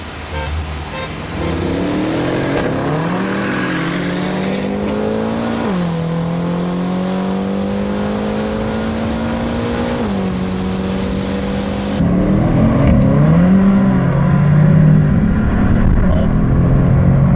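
A BMW M6 and a Mercedes CLS63 AMG pull hard from a rolling start, one engine droning loud and close as its pitch climbs steadily through each gear, dropping with each shift, before a heavier burst of revving near the end.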